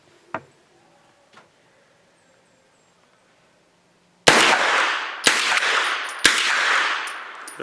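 A PWS PCC pistol fires Hornady Critical Defense Light 100-grain rounds outdoors: after a quiet stretch with two faint clicks, three loud sharp shots ring out about a second apart, each followed by a long echoing decay.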